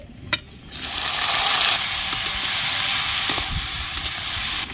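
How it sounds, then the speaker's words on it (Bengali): Snake gourd drops into hot oil with nigella seeds and dried chillies, setting off a sudden loud, sustained hissing sizzle after a few clicks, close by, with occasional utensil taps and no speech. "কড়াইয়ের তেল গরম হয়ে গেছে, এবার আমি চিচিঙ্গাটা ভেজে নেব।"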